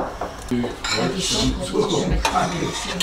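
Dishes and cutlery clatter in a home kitchen as a glass is fetched during cooking, a busy run of clinks and knocks over about three seconds, with a voice talking alongside.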